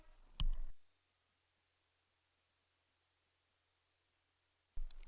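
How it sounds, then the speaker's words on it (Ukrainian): A single mouse click presses a Buy button on screen: one short, sharp tick near the start, then near silence and another brief noise at the very end. "натискаю кнопку Buy"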